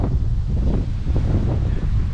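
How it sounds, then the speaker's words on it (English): Hurricane Ian's strong storm wind roars and pummels the microphone with a dense, continuous low rumble, loud and unbroken throughout. "It's just a bit windy."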